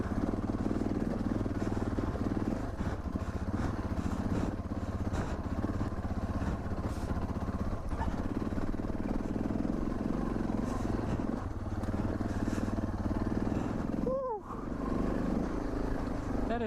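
A Suzuki DR650 motorcycle rides through open desert, its engine droning steadily and loudly throughout with rough clatter over terrain and wind noise, a brief rising rev near the end.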